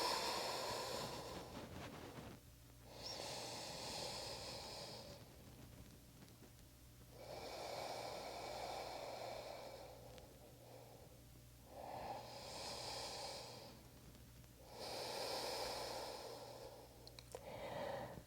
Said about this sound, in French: Prends de longues inspirations par le nez. Et expire par le nez.